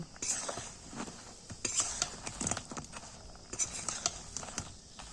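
A utensil scrapes and clinks against a pan in uneven bursts as pitha is stirred in sugar, with soft patter and a faint sizzle between strokes.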